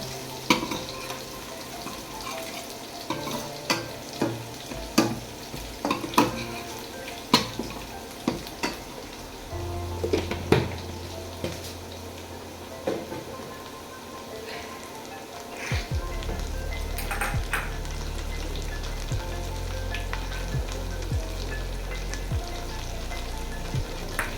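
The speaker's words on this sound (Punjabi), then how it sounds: "ਆਪਾਂ ਇਹਦੇ ਵਿੱਚ ਲਸਣ ਪਾ ਦਾਂਗੇ ਨਾਲ ਹੀ ਲਸਣ ਨੂੰ ਚੰਗੀ ਤਰ੍ਹਾਂ ਭੁੰਨ ਲਾਂਗੇ" Garlic fries with cumin in a hot pan, giving a steady close sizzle with scrapes and taps of stirring throughout. The frying gets louder and denser partway through, and no one speaks.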